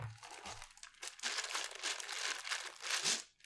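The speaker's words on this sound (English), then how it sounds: "Do you guys want to hear my dice?" A dense, continuous rattling and clattering of about a pound of plastic 20-sided dice jostled together inside a bag, loud and close, with no talking.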